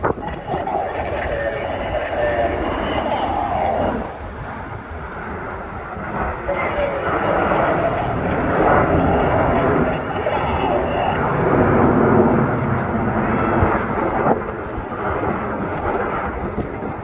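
Aircraft at the Fairford airshow, an engine roar droning steadily throughout with wind buffeting the microphone and voices talking over it.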